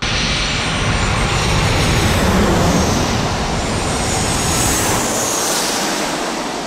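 An Alaska Airlines jet airliner departs San Diego, a loud continuous roaring rush of engine noise that swells and slowly fades as it climbs away, with no talk.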